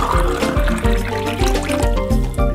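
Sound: water being poured into a glass

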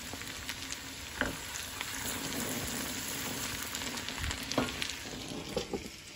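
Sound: cumin seeds sizzling in hot ghee for dal tadka

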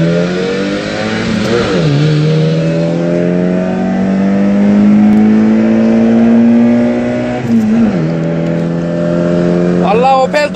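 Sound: Tofaş Doğan car revving and accelerating in a race

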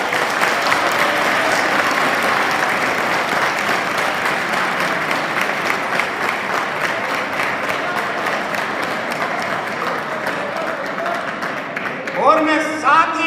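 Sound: audience applause at college poetry recital

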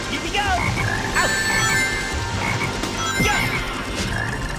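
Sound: black frog croaking in video game Sonic Heroes, Lost Jungle

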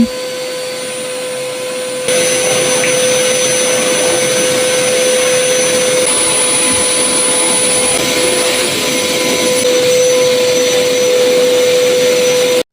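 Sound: vacuum cleaner running while cleaning a small house

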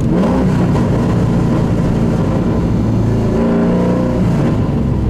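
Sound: Pontiac Trans Am engine revving during rev-match downshifts

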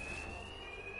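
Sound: alarm ringing in Batman: Arkham Knight video game

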